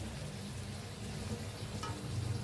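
A methi paratha fries in a pan over a medium gas flame, giving a soft, faint, even sizzle with a brief crackle near the end.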